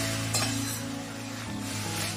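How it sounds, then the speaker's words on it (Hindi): Curd being stirred into potatoes in a pan for Rajasthani aloo dahi sabji: a soft, continuous scraping stir over a gentle sizzle, with a steady low hum underneath and faint clinks. "अब ये दही हम लोग इसमें मिक्स कर देंगे और कंटिन्यूस चलाते रहेंगे"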